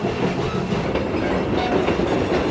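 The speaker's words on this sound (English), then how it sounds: "I'm right the ways up at the front of the train, right behind the engine right now." A steam train engine runs on rails on the way to Mount Rainier, heard up close from just behind the locomotive: a loud, steady rumble with continuous clickety-clack wheel noise and no voices.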